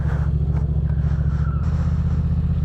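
Motorcycle engine roaring steadily and loudly up close during a stunt, with a strong low rumble and the rear tire scraping and squealing against pavement, the drone dropping in pitch partway through.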